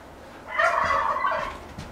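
Several people vocally imitating a turkey's gobble at a Thanksgiving sign-off, a loud warbling burst of clucking gobbles lasting about a second, close and clear with no other talk.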